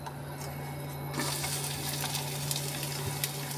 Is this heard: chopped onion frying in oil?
yes